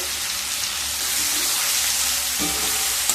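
Raw green mango pieces tossed with salt and turmeric frying over high heat in a pan, a steady close sizzle with occasional stirring scrapes and a clink near the end.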